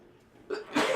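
A single short sneeze bursts out close by, a quick breathy intake followed by a sharp loud release.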